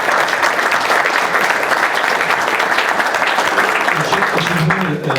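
An audience at a judo event applauds in tribute, sustained dense clapping filling the whole stretch at close range, with voices mixed in beneath.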